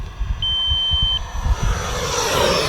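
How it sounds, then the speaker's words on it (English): An RC radio transmitter's telemetry timer on an E-flite F-16 Falcon 80mm EDF jet gives a single steady electronic beep lasting nearly a second, over loud outdoor wind and engine noise. "That is my timer just counting down"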